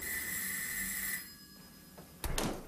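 A doorbell rung twice by the postman: a sustained electric ring with steady tones for over a second, a short pause, then a second louder burst of ringing, with no talking.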